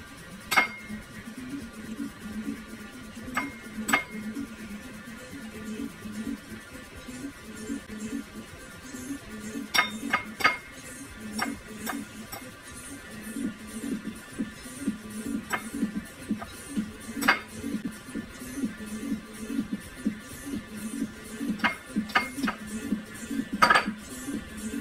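Batter for a chocolate cola cake being mixed, a low steady whir beneath scattered sharp clinks and taps of utensils against a bowl, fairly quiet and close.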